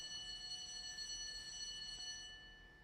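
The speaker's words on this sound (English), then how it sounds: "the second round of the quorum bell that is underway" A Senate quorum bell rings continuously in a steady, sustained electric tone with a bright metallic edge, faint and distant, fading slightly as it stops, with no voices.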